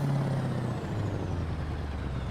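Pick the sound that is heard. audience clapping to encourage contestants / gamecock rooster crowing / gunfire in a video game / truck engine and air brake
truck engine and air brake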